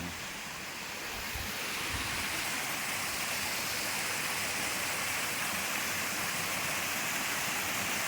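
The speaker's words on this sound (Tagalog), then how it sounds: "Dito na kami sa falls." Waterfall at Casat Lamoy, a steady broadband roar of falling water close by, constant and loud throughout with no voices.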